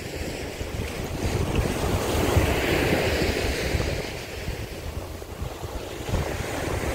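Sea waves washing onto the shore at Karolino-Buhaz on the Black Sea coast in autumn, a steady roar of surf mixed with strong wind buffeting the microphone, loud and continuous throughout with no voices.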